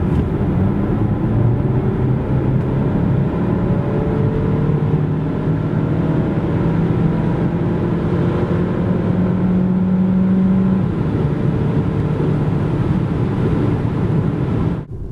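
Alfa Romeo Tonale 1.5 hybrid (2023, 160 hp plus 20 hp electric) accelerating from 90 to 140 km/h, a steady loud engine drone with rising tones, heard continuously from inside the car without talk.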